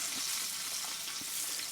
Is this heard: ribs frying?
yes